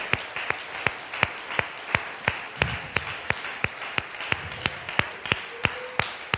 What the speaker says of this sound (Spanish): Sí, fuerte ese aplauso para Él.